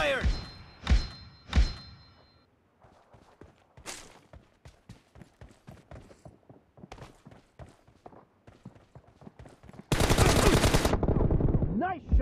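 Shots in a mobile shooter game open with a few loud, separated gunshots, followed by a long run of quieter rapid taps like footsteps or distant fire, then a dense, loud burst of automatic fire near the end.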